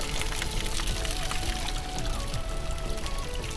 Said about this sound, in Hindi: इस गेट के पास में पानी का टैप लगा हुआ था, तो चलिए पानी भर लेते हैं